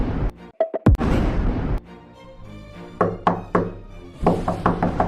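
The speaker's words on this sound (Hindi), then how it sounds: "मदन के घर का दरवाजा खटखटाते हैं।" Knocks on a house door in a heavy rainstorm: a few sharp wooden raps early, then a series of spaced thumping knocks near the end, loud and close with no talking.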